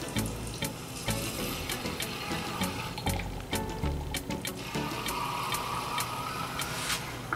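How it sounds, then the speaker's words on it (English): Water pours into the small reservoir hole of a 1/12 scale Pinecone Model Ripsaw RC tank, a steady close splashing fill that runs continuously with small bubbling variations. "you can fill water right in that little hole there."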